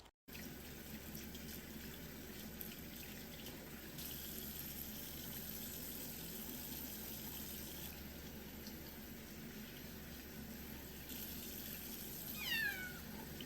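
Tap water running while a foster kitten is rinsed during a bath, a soft steady stream in a sink with a faint high squeak near the end; quiet overall, no talk.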